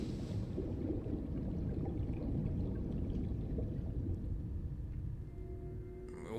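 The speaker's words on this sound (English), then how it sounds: "Oh, there's the splashes." Water splashes from Final Fantasy XIV, a dense, continuous rushing and pouring wash at moderate volume that tapers slightly toward the end.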